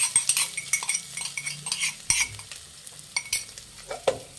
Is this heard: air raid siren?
no